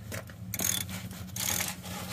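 A socket wrench works a nearly rounded-off nut on a bulldozer, giving close metallic ratcheting and rubbing scrapes in two short bursts with a brief gap between.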